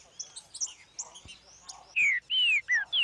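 A green-winged saltator (trinca-ferro) sings clear, loud whistled phrases near the mic, each a rising or falling sweep, repeated three or four times after softer twittering notes.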